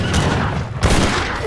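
A gunfire volley in Age of Empires 3 Definitive Edition, a loud crackling battle din with a sharper burst of shots midway, dense and continuous.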